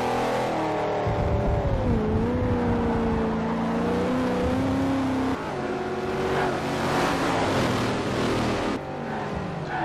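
Trans Am race cars from a historic racing sim roar around the Sedona track, several engines overlapping in a steady, loud drone with rising and falling revs as cars pass close by.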